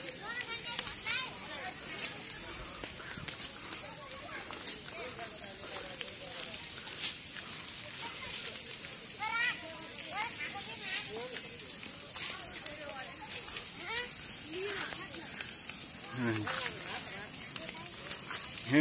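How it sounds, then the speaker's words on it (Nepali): A forest fire burning in Nepal, with steady crackling and popping spread across the clip, continuous and fairly close, while people talk over it throughout. "ठुलो लागिरहेको छ आगो ठुलो"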